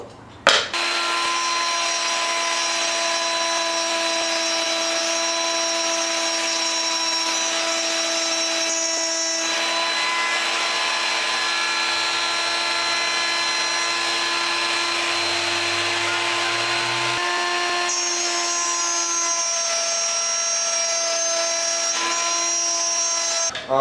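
A power router cuts a shallow groove in a wooden tissue-box panel with a loud, high-pitched whine that runs almost continuously, shifting pitch under load midway and near the end, with no talking.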